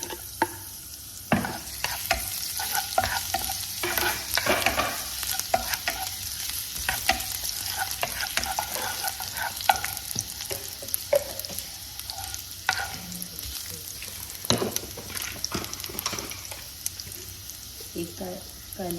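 Chopped ginger frying and being stirred in a pan of hot oil for a chana aloo chaat, with steady sizzling and repeated scraping strokes of a spoon running throughout.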